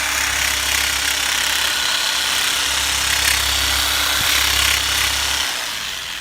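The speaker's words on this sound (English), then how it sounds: "We're going to use a little Makita drill, Makita vibro unit." A small Makita drill used as a vibration massage unit on a chiropractic patient, a steady droning motor buzz with a low hum, running loud and close before easing off near the end.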